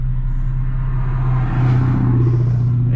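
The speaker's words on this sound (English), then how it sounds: "Let's let this car go." A car drives past on the road nearby, a continuous engine rumble and tyre roar that swells in the middle as it draws closest, then eases slightly.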